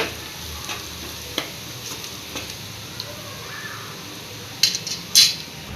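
A ladle stirs onions frying with turmeric in a pan for a village-style gongura curry, with a soft continuous sizzle under light scraping and a few sharper metallic clinks near the end.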